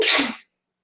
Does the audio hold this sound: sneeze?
yes